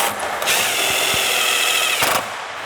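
A power tool tightens the bolts on a Rolling Big Power RX3-Series mesh grille shell, giving one sustained whirring run that stops abruptly, then a short second burst, close by with no voices.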